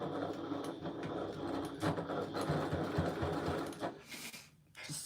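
A sewing machine stitches straight across a quilt binding, running in a steady continuous whir that stays close and even before tapering off near the end, with no talk over it.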